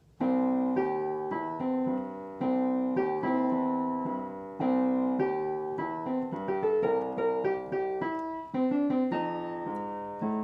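Solo piano plays a blues passage in even, straight, unswung time, chords and melody steady and moderately loud, with no voices.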